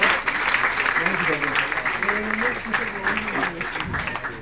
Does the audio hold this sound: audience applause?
yes